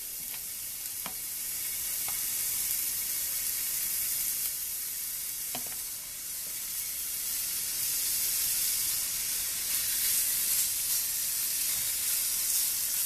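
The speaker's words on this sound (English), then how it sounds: "all you're doing is just pan frying it" Steady, bright sizzling of thinly sliced pork loin pan frying in sausage grease, a continuous hiss with occasional faint pops and clinks, no talking.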